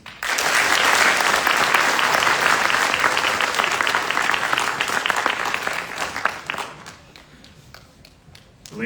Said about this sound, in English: Please join me in a round of applause for the Commandant's list.